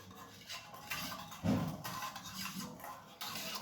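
Sugar, milk and ghee are stirred in a pan for a dry fruit cake, a spoon scraping and clinking against the metal in repeated strokes, close and moderately loud, with no one talking.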